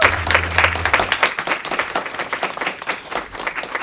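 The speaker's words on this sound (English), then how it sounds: "clap it up for all the honorees thus far?" A crowd applauds honorees at a 10th anniversary award ceremony, with dense, steady clapping from many hands filling the room for several seconds.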